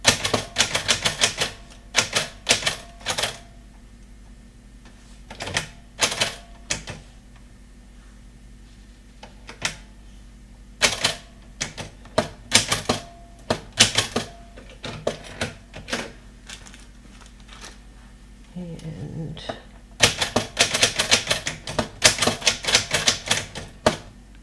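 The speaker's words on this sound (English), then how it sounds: "I like listening to the sound of the typewriter." Someone types on a typewriter in a craft room: sharp, close key strikes come in quick irregular bursts separated by short pauses, ending in a dense flurry of clacks.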